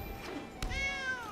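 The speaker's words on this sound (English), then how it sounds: "Got my kitty cat." A pet cat lets out a single clear meow up close, rising then trailing off, heard just after a brief thump against quiet background noise.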